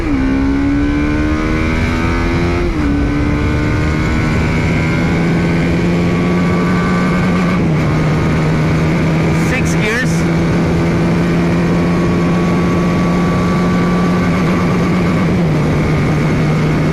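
A TVS Apache RR310 motorcycle on a road test at high speed. Its engine gives a steady, loud drone that drops in pitch at a few gear changes, with heavy wind rush throughout.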